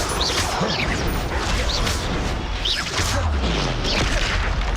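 Repeated Bombarda blasting spells in Hogwarts Legacy combat, a dense stretch of booming impacts and crashing debris with whooshing spell sweeps at regular intervals, loud and continuous, no talk.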